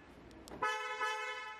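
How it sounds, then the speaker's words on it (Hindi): A single short car horn beep sounds after faint clicks, a clear harmonic tone held for about a second at moderate volume, as a 2021 Hyundai Creta EX is locked. "और यहाँ पे आप लॉक करते हैं तो सिंगल हॉर्न"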